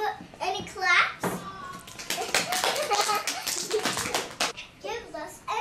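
Children clap in a classroom, bursts of many small hands patting quickly for a few seconds, loud and close, with kids' voices chattering before and after.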